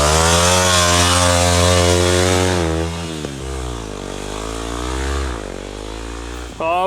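A Yamaha WR250R dual-sport motorcycle rides down a snowy mountain road, its engine droning loud and close, revs rising and falling as the throttle changes, without any talk.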